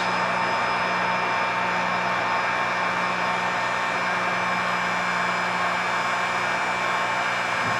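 A heat gun blows hot air onto a freshly painted fishing jig lure, a loud continuous whooshing roar with a steady motor whine, close and unbroken throughout.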